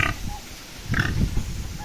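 Low grunting from pigs in a pen on a farm, a few short snorts and oinks in quick succession at moderate distance.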